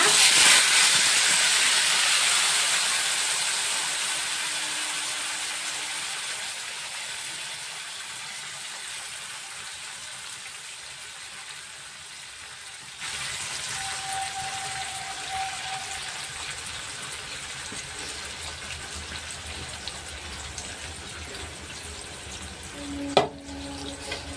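Marinated chicken sizzles and hisses steadily in a hot pan while chicken rezala cooks, a dense frying noise that is loud at first and then softens, with a brief sharp clatter near the end and no voices.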